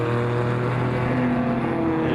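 Porsche flat-six race car engine at a racing event, a loud, continuous, close-up roar with a steady harmonic whine that rises slightly near the end, with no talking.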